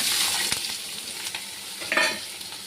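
Potatoes and green chilies fry in hot oil in a wok, a steady close sizzle with occasional stirring scrapes and a brief louder crackle, no talking.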